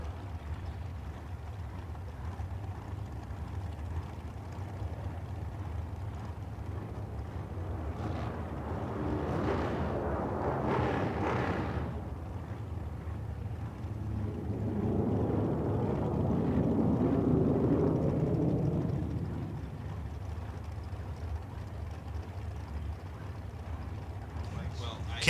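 Drag racing cars back up after their burnouts at a drag strip, a deep distant engine rumble swelling and fading twice, the second pass a broad loud drone, with an announcer talking over it.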